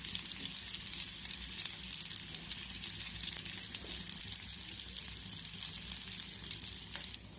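Stuffed pointed gourds frying in oil in a pan, giving a loud, continuous bright sizzle and crackle that holds steady throughout with no speech.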